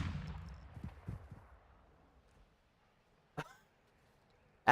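A shotgun slug fired in Modern Warfare 2: a loud blast that decays into a rumbling tail, then a sharp, short crack of impact, with another shot starting at the very end and no talk.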